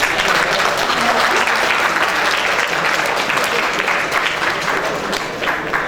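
A room of audience members claps for themselves, the applause dense, steady and loud from start to finish, with a slight fade near the end.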